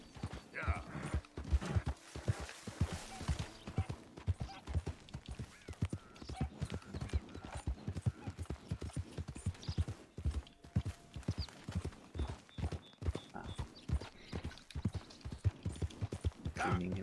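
Horse hooves clip-clop steadily in Red Dead Redemption 2, a rhythmic run of close, distinct thuds continuing for the whole stretch, with an occasional snort mixed in and someone talking over it.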